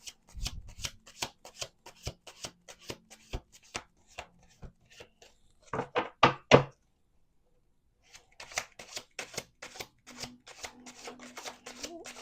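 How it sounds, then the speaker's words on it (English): Cards are shuffled in quick riffling bursts separated by pauses, close and crisp, with a louder flurry midway and a faint voice briefly underneath. "Let's do 2 more shuffles."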